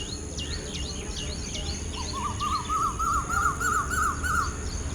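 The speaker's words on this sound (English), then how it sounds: "See the bird? Can you hear the bird?" Repeated rising bird chirps sound throughout, joined midway by a quick trilling song, over steady background noise and a high electronic whine.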